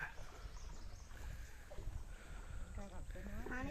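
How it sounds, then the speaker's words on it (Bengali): A tourist rowboat moves through the flooded Ratargul swamp forest in Sylhet, with a steady close wash of water and paddle noise. Voices and chatter rise over it near the end. "এই সামনের দিক থেকে আরেকটা পর্যটকবাহী নৌকা"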